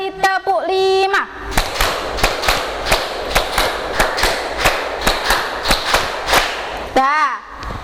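A group of people claps in unison in a counted clapping routine, giving repeated sets of sharp, crisp claps in a steady rhythm. A brief voice is heard at the start and end.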